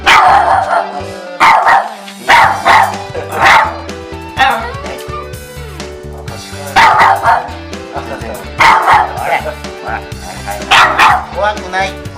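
A Shiba Inu barks repeatedly and loudly at strangers coming into the house, giving sharp close yips in quick bursts with brief whimpers between them, while people talk nearby.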